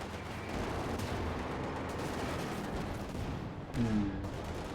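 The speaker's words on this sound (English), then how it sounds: "Oh! Cannon fire!" Cannon and small-arms fire in the real-time strategy game Company of Heroes 2 during a tournament match, a dense, continuous rumble of distant battle with a heavier blast near the end.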